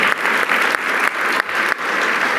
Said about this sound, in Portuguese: Uma salva de palmas para o monstro